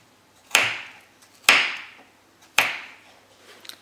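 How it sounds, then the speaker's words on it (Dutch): Knife chopping a carrot into small cubes for an autumn soup: three sharp, evenly spaced chops against a cutting board, each a crisp close knock with a short ringing decay, no talk. "En daarna kun je er kleine blokjes van snijden."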